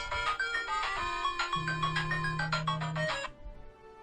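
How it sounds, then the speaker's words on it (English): A mobile phone ringtone goes off nearby, a loud, bright electronic melody of quick repeated notes over a sustained low tone, playing for about three seconds before cutting off, with no one talking. "And then my phone actually goes off."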